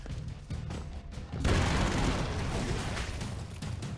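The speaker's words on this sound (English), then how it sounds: "There's like so many explosives everywhere, explosions everywhere." Explosions in the run-and-gun video game Broforce burst out in a dense, roaring blast that swells suddenly after a few scattered pops and stays loud, crackling and rumbling to the end.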